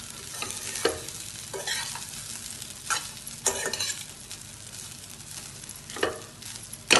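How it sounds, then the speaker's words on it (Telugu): Egg dum biryani being stirred in a pan with the stove off, giving a series of scraping, clattering strokes at irregular intervals over a faint background hiss, close and fairly loud. "ఇప్పుడు స్టవ్ ఆఫ్ చేసి మొత్తాన్ని బాగా కలుపుకోండి"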